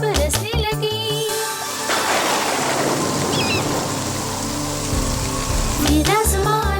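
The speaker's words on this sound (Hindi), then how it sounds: "फिर आसमान काला हुआ, जल्दी ही बारिश बरसने लगी।" Steady rain hisses down for several seconds, a dense, even wash of drops, with brief music at the start and end.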